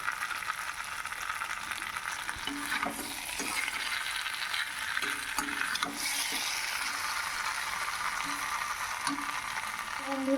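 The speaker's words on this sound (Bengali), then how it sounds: "আমি কড়াই নিয়েছি আরেকটা এর মধ্যে আমি সর্ষের তেল দিয়েছি পাঁচ ফোড়ন শুকনো লঙ্কা দিয়েছি" Panch phoron and dried red chillies sizzle in mustard oil in a kadai, a steady close hiss with a few faint scrapes and clicks.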